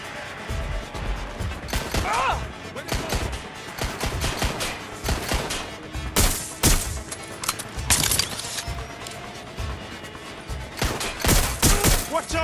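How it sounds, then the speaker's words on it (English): Gunfire in the Watch Dogs: Legion video game, with dense bursts of sharp, loud shots crackling in irregular volleys, interspersed with crashes and a voice speaking between them. "Watch out! Shots fired!"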